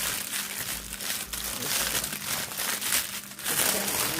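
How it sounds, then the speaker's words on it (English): Plastic wrapping ripped and crinkled off a Christmas ham, with close, loud crackling and tearing in repeated bursts throughout and no speech. "See, it's in a plastic. And I rip this one."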